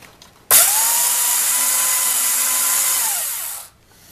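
A broken paper shredder's cutting mechanism runs alone for about three seconds, a loud steady motor whine and whir that starts abruptly and winds down at the end; no one talks over it.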